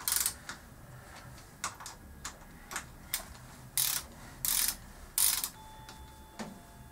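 A ratchet tightens the bottom clamp bolts on a Kawasaki ZZR600 motorcycle's fork legs, close up, with bursts of rapid clicking strokes separated by short pauses and a faint metallic ring near the end.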